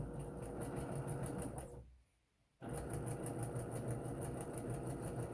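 Sewing machine stitching fabric for a skirt made from fat quarters, a steady close whirring hum that cuts out briefly for under a second, then resumes at the same even pace.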